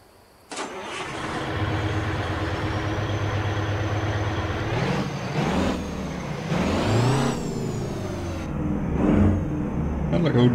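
An old Detroit diesel truck engine from American Truck Simulator turns over and settles into a loud, rough idle, with revs rising and falling and a sharp air-brake hiss near the end.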